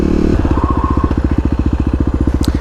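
A 2018 Kawasaki KLX250 dual-sport motorcycle rides close by, its single-cylinder engine thumping in a loud, steady, rapid pulse as it pulls along, with no voices.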